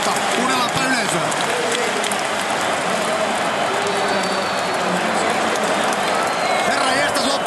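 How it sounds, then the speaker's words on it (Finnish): Stadium football crowd roaring and cheering after Finland scores, a dense continuous wall of noise with applause and shouting sustained throughout, commentary voices faintly under the din. "Kuunnellaanpa yleisöä."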